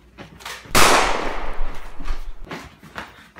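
Gunfire in The Last of Us: one loud, sharp shot rings out and decays, followed by several fainter cracks and thuds close by.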